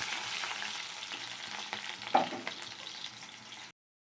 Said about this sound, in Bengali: তেলের মধ্যে দুটো কালো জিরে দিয়ে দিচ্ছি, একটুখানি একদম দিয়ে দিচ্ছি কেটে রাখা আলু